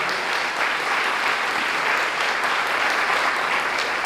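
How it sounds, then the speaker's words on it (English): Sustained, dense applause from a large audience at a teacher of the year celebration, steady and fairly loud with no break for the whole stretch. "how about a big round of applause for what Aaron Deal does year after year?"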